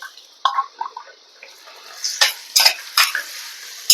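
A spoon scraping and clinking in a pan while onion, tomato and green chili are stirred together for a Kerala-style fish curry, a series of sharp, close metallic taps and scrapes at irregular intervals.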